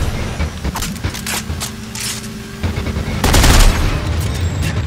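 Rapid bursts of gunfire ring out in the sci-fi horror game Dead Space 3, loud and repeated, with a sustained stretch of fire near the end and mechanical game sounds between the shots.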